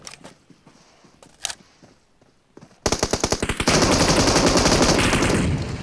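Gunfire in a battle royale video game match: a few scattered quiet shots, then sudden loud rapid automatic bursts that merge into a dense sustained stream of fire.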